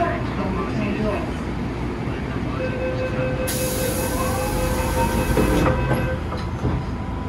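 MTR M-Train doors closing on a Hong Kong metro platform: warning chime tones and a bright hiss as the doors shut and briefly rebound, set against train rumble and a recorded announcement voice.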